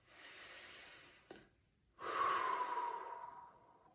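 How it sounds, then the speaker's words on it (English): Slow, deep breaths drawn in during a guided classroom mindfulness exercise: a soft airy inhale, a brief pause, then a longer, louder breath close to the ear, with no talking. "Take 3 breaths in."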